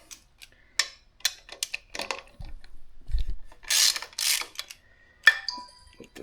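A ratchet works a bolt on an S&S Super E carburetor of a 1999 Harley, giving short bursts of close mechanical clicking and clatter with pauses between strokes.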